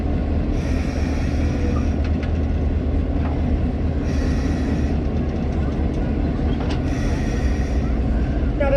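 A diesel electric locomotive formerly run by the U.S. Army at the Holston Ammunition Plant rolls on a railway turntable, a steady low rumble with faint wheel squeals and clanks, people talking over it.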